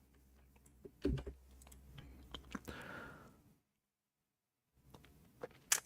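Computer keyboard typing up close, a quick run of soft clicks and taps for a few seconds, a brief silence, then a couple more keystrokes.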